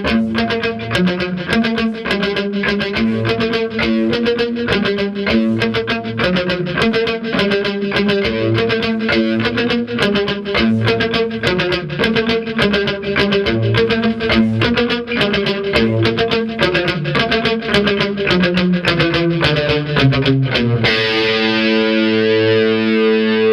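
Distorted electric guitar playing palm-muted chords in a steady chugging rhythm, loud and continuous with no voices, ending in a brief ringing sustain.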